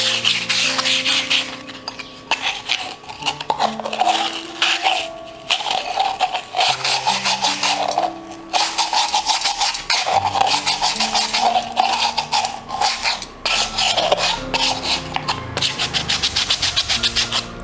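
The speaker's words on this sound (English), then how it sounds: "Wherever you see a little elevation kind of thing in this matki, you can just scrub it a little more." Scrubbing on the surface of a clay matki pot being prepared as a Diwali tea-light holder, a continuous rough rubbing and rasping near the mic with short pauses, steady throughout and without talk.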